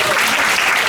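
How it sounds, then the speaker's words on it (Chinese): A band concert audience bursts into applause, a loud, dense, close patter of many hands clapping without pause. "是不是给我们掌声鼓励一下"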